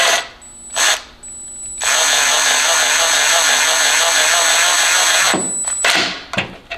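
An impact gun runs down a transmission cooler bolt on a BMW E36 during a radiator install. A short burst comes first, then a loud, sustained mechanical whir lasting several seconds, followed by a few brief bursts.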